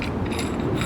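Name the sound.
loosening screws on a light mounting plate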